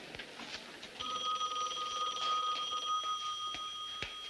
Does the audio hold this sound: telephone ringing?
yes